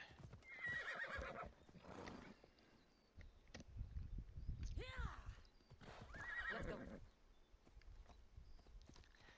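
A horse in the video game Assassin's Creed Odyssey neighs and whinnies more than once over clip-clopping hooves, with snorts and shuffling steps, fairly close and without talk.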